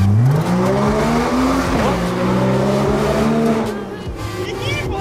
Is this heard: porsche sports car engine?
yes